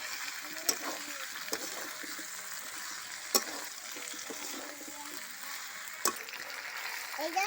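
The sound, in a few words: chicken sautéing with fried potatoes and Malabar spinach stems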